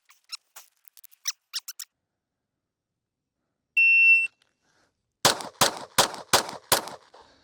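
A pistol fires a five-round drill from the draw at a range after a single electronic shot-timer beep, the sharp, loud shots coming in rapid succession with a few light clicks beforehand.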